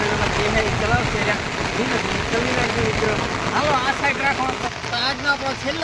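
Heavy rain in Dindoli, Surat, pours steadily and close by as a dense, continuous hiss, with voices talking throughout over the downpour.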